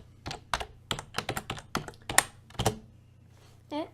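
Code is typed on a computer keyboard in quick, uneven bursts of sharp, close key clicks, followed by a short pause. A brief voice comes in at the end.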